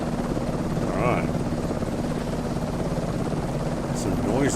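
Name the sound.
helicopter engine noise in Microsoft Flight Simulator 2024 video game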